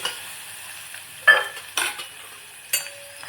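Chopped onions sautéing in a pan for masala rice, with three separate stirring scrapes over a faint, low sizzle, close by and otherwise quiet.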